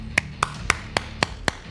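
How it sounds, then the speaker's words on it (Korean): Seven sharp hand claps in a steady, evenly spaced rhythm, close and crisp over a low background hum, with no voices. "박수."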